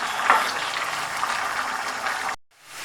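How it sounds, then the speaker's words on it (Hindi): Chicken shami kabab mixture cooking dry in a pan on a high flame gives a steady broadband sizzle and bubbling that runs evenly. It cuts off abruptly near the end and is followed by faint room tone. "तेज़ फ्लेम करके हम इसका पानी ड्राई करते हैं"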